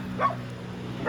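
A dog barks twice, close and sharp, with a short gap between the yaps.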